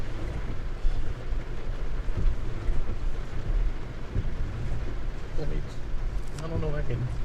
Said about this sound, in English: it's raining pretty heavy